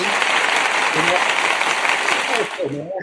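A round of applause rises from a crowd, dense clapping that carries on steadily before thinning near the end as a voice begins talking over it.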